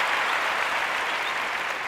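Steady, dense applause from a crowd at a live gathering in Kenya, filling the whole moment without a break at an even, fairly loud level.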